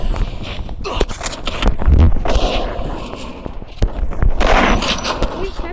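Rapid gunfire from dual-wielded long guns in the Free Fire battle game, sharp repeated shots scattered across the moment, mixed with game effects and a busy, loud background where someone talks.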